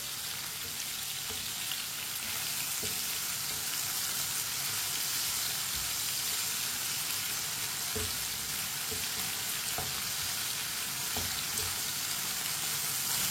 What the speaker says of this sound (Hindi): दो सब्ज मिर्च, टमाटर को 1 मिनट के लिए पका लेंगे।